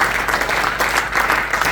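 Congregation clapping during a bilingual Sunday church service, a dense continuous burst of applause filling the space at steady loudness.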